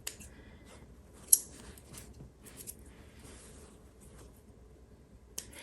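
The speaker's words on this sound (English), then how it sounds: "we want to trim these extra threads" Scissors snip a few times to trim extra threads from a fabric drawstring bag, the sharp close cuts scattered and soft apart from one crisp snip.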